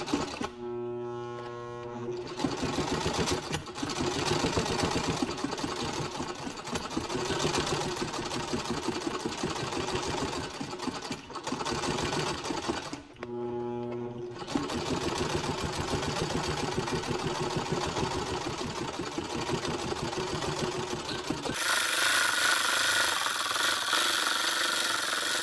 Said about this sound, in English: can actually sew a straight line without too many stops and starts